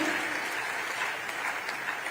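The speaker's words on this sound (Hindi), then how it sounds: "हमें यह आभास होने लगा है आपकी तालियों से कि हमारे अतिथियों का आगाज इस सभा स्थल पर हो चुका है" Applause from a school event audience welcoming guests at a scheme launch programme in Chhattisgarh, dense, even clapping from a large crowd, somewhat distant and sustained, with faint voices.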